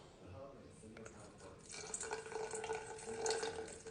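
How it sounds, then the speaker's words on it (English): Water pours and trickles into a jar of sourdough starter nearby, starting faintly and growing fuller, with a splashy, bubbling sound. "I'm adding 50 grams of water."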